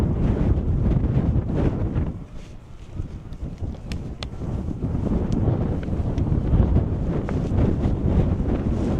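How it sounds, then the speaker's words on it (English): Strong wind at Alcatraz Prison roars steadily into the microphone, buffeting in gusts with low rumbling, easing briefly before picking back up. "So windy today."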